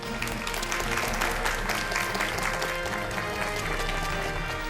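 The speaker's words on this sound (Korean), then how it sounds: "여러분 박수로 맞이해 주시면 고맙겠습니다." A Busan studio audience applauds as the city's mayor is welcomed onto a TV talk programme, a steady wash of many hands clapping at moderate volume for several seconds.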